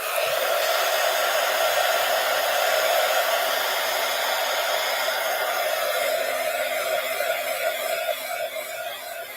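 A hair dryer blows continuously close by, drying a soggy Mod Podge-coated Valentine postcard; a loud, steady airy whoosh with a constant motor whine that holds for several seconds before easing slightly.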